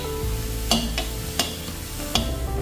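Seafood sautéed with salt in a pan makes a steady sizzle, broken by a few sharp scraping stirs and clinks spaced about a second apart, close by with no talk.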